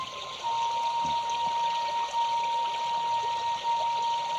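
Steady flowing river water with a continuous trickling, pouring quality, serving as a sound effect in an Indonesian radio drama; a thin steady tone runs over the moderate water noise throughout, with no voices.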